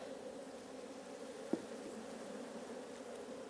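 Honey bees buzzing around an open, crowded hive, a steady, faint, even drone with one brief knock partway through.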